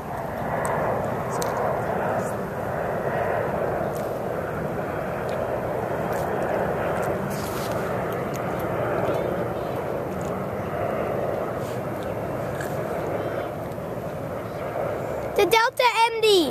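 A Delta MD airliner passes at Reagan National Airport, its jet engine roar steady and broad throughout, with people talking faintly over it and a brief clatter of handling noise near the end.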